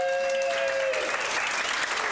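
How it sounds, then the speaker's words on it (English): At a stand-up comedy showcase, the audience claps for the comedian's wife, a brief burst of close, dense applause that swells after a moment and holds steady. "Can we give her a round of applause?"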